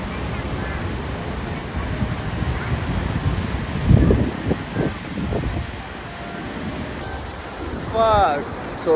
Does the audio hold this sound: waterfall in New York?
yes